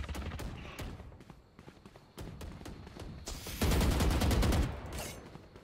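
Valorant gunfire comes in bursts of rapid shots with a heavier volley near the end, close and punchy, with faint game noise between bursts and no talking.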